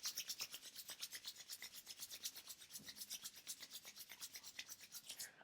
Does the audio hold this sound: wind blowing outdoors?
no